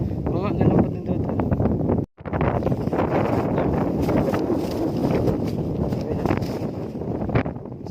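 Strong wind buffets the microphone in a steady, loud roar across the whole stretch, broken by one brief drop to near silence, with people talking over it.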